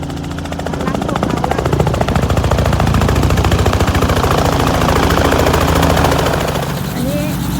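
Helicopter lifting off for a sightseeing flight over the Yorkshire countryside, its loud, steady rotor chop and engine roar dominating throughout with a pulsing beat, a voice faintly under the din.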